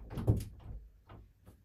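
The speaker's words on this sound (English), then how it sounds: "I'm gonna lock the door." A door, apparently being locked, gives a soft thunk and clunk up close, followed by a couple of faint, brief handling sounds in an otherwise quiet indoor room.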